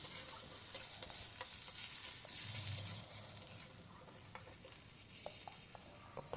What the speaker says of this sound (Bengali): আদা রসুন বাটাটাও একটু ভেজে নেব।